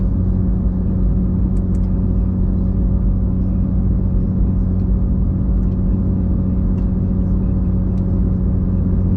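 Porsche GT3 RS race car cruising on a track, heard from inside as a steady low engine drone and road rumble that holds an even level throughout, with no voices.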